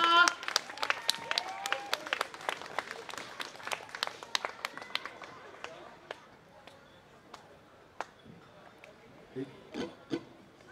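An audience at an outdoor night market concert applauds to welcome a folk singer. The sharp claps are scattered and close at first, then thin out to a few isolated claps and fade into quieter crowd noise.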